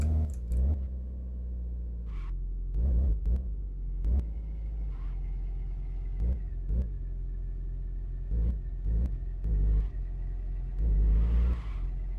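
A car engine rumbles steadily at low revs while pulling away in first gear, with repeated short clunks and knocks breaking through the hum.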